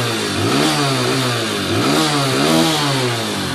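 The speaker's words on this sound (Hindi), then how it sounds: "थ्रोटल देते हैं, एक्सीलेटर देते हैं।" A TVS Star City Plus 110 motorcycle, its timing chain noise repaired, is revved up and down: a steady mid-pitched engine note rises and falls in a few throttle blips, close and loud with no talking.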